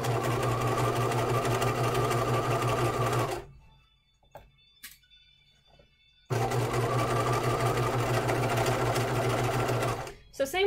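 Sewing machine edge stitching a hem on a hanten mockup: two long steady runs of fast motor hum and needle chatter, close and loud, separated by a few seconds of near silence with small handling clicks.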